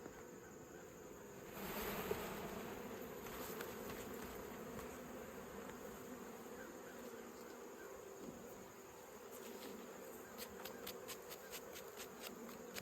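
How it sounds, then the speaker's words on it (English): A steady, soft buzzing of many honey bees around a hive frame fills the air around the listener, with a brief swell near the start and faint ticks later. "Brush the bees off."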